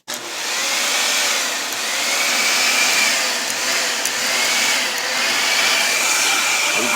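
A Dyson vacuum cleaner runs with its hose attached, giving a loud, steady high-pitched whoosh that starts abruptly and holds without pause.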